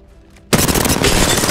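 A 99 or Volt submachine gun fires in Apex Legends, breaking sharply out of near silence into a loud, rapid, sustained burst.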